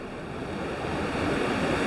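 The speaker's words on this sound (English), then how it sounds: "We see the waves." Ocean waves surge steadily as continuous broadband surf with wind noise, loud and close, no voices.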